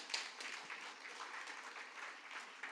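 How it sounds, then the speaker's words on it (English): An audience at an alumni congress applauds a guest of honor, a steady wash of clapping that holds at even strength for the whole stretch with no voices over it. "A round of applause for our guest of honor,"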